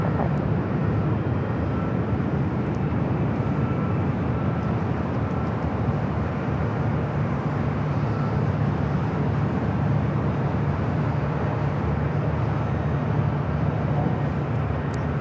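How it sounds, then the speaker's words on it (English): American Airlines Boeing 787-9 Dreamliner, flight 26 from Tokyo Haneda, arriving at Los Angeles LAX, giving a steady broadband engine roar that holds level throughout, with no talk. "Next arrival is that American Dreamliner, 787-9 Dreamliner, flight 26, coming in from Tokyo Haneda."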